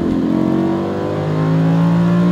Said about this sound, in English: Open the wheel out to the right, and you can go full throttle.